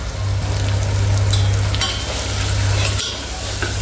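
Turmeric and spices roasting in hot oil for mutton kheema, a loud close sizzle with scraping stirs and occasional clinks of a utensil against the pan.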